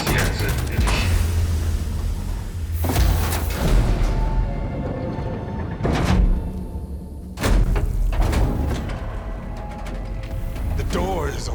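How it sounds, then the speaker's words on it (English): A sci-fi door in Horizon Forbidden West slides open through an emergency exit, with heavy booming mechanical thuds and whooshes over game music, and a character speaking throughout. "The door is open."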